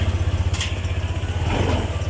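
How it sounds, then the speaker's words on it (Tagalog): Honda PCX160 scooter engine running steadily after starting, a close, continuous low throbbing idle with faint clicks over it, no talking. "pwede na nating paandarin ang motor"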